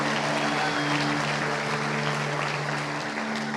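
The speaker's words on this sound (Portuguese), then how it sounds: "Se você crê, dê uma salva de palmas a Jesus." A church congregation applauding during a worship service, sustained even clapping with sustained tones held underneath, continuous and full throughout.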